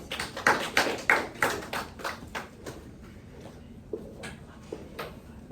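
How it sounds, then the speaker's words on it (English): A short burst of classroom applause, several quick claps at first that thin out and fade to a few scattered taps within a few seconds. "Everybody, give them a round of applause."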